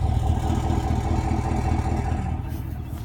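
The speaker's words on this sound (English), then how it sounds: "Got a pretty good exhaust note too." Idling V8-style rumble from a Trailboss pickup truck with dual exhaust integrated into the rear bumper, a steady, close, low engine drone held for about three seconds with no voices over it.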